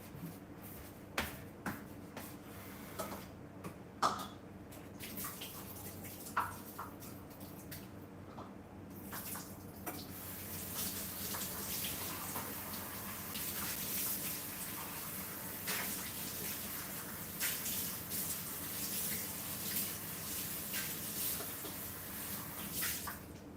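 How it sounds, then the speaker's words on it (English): Tap water runs into a blender jar while it is rinsed, a steady hissing stream that follows a string of clinks, taps and handling knocks. "Now I just need to rinse it."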